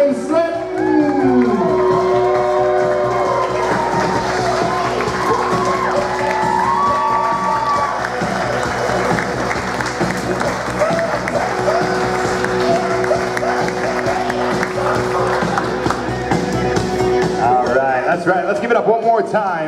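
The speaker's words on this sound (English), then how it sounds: "please give a big warm round of applause and stand up for our new Mr." Wedding reception guests applaud and cheer as the bride and groom arrive, a long steady roar of clapping and whoops with music playing underneath and voices shouting over it.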